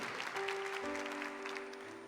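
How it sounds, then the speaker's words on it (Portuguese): Congregation at a Catholic religious gathering applauds, a brief burst of clapping with a sustained organ or keyboard tone ringing beneath it. "Aplauda Jesus com força"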